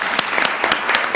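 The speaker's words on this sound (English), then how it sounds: "Let's give them a round of applause" Audience applause at a Columbus, Georgia city council meeting, a steady patter of many hands clapping with rhythmic bursts throughout a short stretch, fairly close and full.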